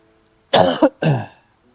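A person coughs violently at close range, two harsh bursts separated by a brief catch, with no talking.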